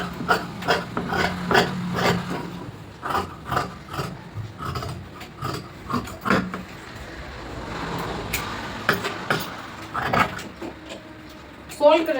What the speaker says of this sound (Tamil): இப்போ கட் பண்ணி எடுத்துடுறேன்.